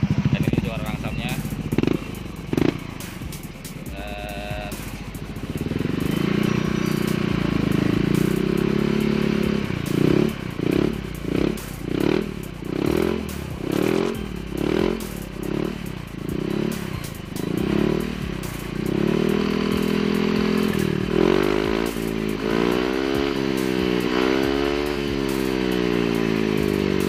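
Racing-tuned Yamaha Aerox scooter engine, a loud, close, rough idle that pulses and blips in repeated revs, with clatter and someone talking over it.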